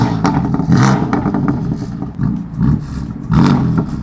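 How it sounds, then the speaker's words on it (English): A BMW F80 M3 with an M Performance exhaust revs on a street at a night car meet. Several separate loud, throaty blips rise and fall over idle rumble. "Giving us some good sounding revs"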